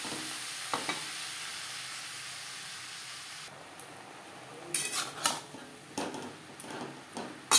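Banana stem stir-fried with onion and green chilli in a pan over high flame gives a soft steady sizzle, then clattering spatula strokes and stirring scrapes grow louder toward the end.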